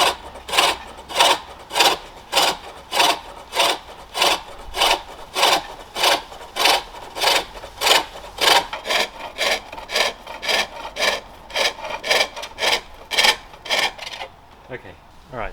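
Pole lathe turning a wooden bowl, with a cutting tool thinning the core in regular rhythmic strokes: close, loud scraping bursts pulse back and forth about once a second, easing off near the end.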